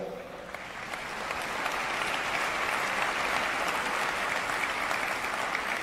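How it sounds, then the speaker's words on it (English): A large audience claps steadily in a hall at a Save Soil talk in Dubai, a dense wash of applause building slightly after the first second and holding strong without any talking. "I'm wary of all these clapping hands"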